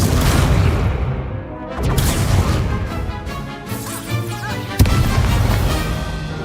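Explosive Confringo spell blasts in the video game Hogwarts Legacy, a run of loud booming bursts with crackling debris, one sharp explosion standing out near the end over continuous game noise.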